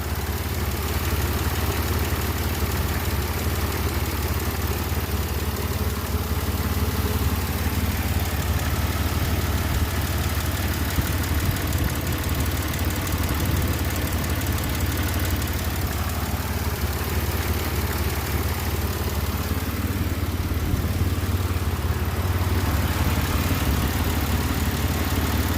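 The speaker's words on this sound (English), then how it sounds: "Engine sounds good. It's running nice. It's really smooth." A 2006 Pontiac Grand Prix 3.8L V6 engine idles steadily and smoothly for the whole stretch after a head gasket replacement, a constant low hum with no voices.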